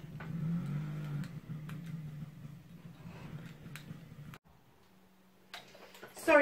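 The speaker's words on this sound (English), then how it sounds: "Somebody decided to rev up a motorbike in their back garden." A motorbike revving in a nearby back garden, a steady low engine drone that rises and falls for about four seconds, then cuts to a quieter idle hum before a sharp burst at the end.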